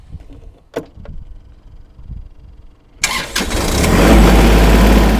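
A Kubota L3301 HST tractor's diesel engine is cranked and catches after a few seconds of quiet handling noises, then settles into a loud, steady idle close by.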